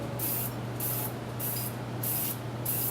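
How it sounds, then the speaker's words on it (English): Duracoat firearm finish sprayed as a third coat: five short, even hissing spray bursts in a steady rhythm, close and loud over a low constant hum, with no talking. "Okay, I'm now spraying my third coat."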